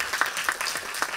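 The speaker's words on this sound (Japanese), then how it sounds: "皆様拍手でお迎えください。" A small theater audience gives a brief, scattered applause to welcome the director and cast of a film Q&A, with individual claps audible in a loose rhythm, fairly quiet.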